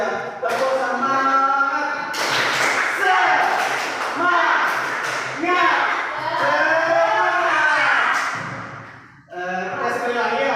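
A school class in an Indonesian social studies lesson does a rhythmic group clapping chant: many voices call out together, punctuated by sharp clusters of claps in a steady beat, close and loud.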